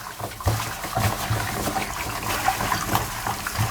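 Lotus root is washed by hand with water and coarse rock salt, producing continuous sloshing, splashing and gritty rattling in a basin, close and moderately loud with no voices.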